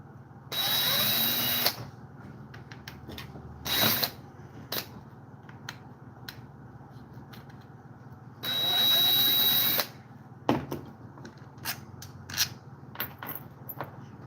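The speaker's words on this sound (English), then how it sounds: "Finish it with the drill." An electric drill whirs in two bursts of a second or so each while loosening bolts on a chainsaw, with a short zip between them and clinks and rattles of parts and tools in the pauses.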